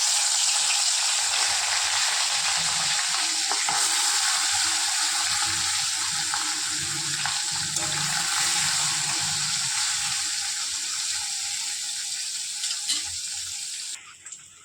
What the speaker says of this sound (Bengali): পুঁটি মাছটা ভাজার জন্য আমি কড়াইতে তেল দিয়ে দিয়েছি।